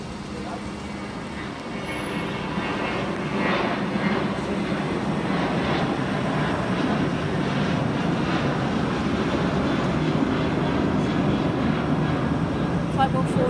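A British Airways jet on flight 149 to Beirut flies near London Heathrow, producing a broad, steady engine roar that swells slightly and stays loud and continuous throughout.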